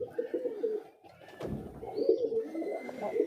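Pigeons perched in a tree beside their open loft coo in soft, repeated low rolls, with a few faint chirps and light background noise.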